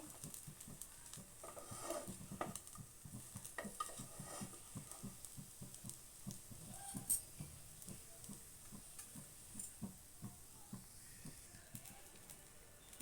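Bread slices frying in a pan just after being flipped, giving a quiet, steady crackling sizzle with scattered soft ticks and pops throughout.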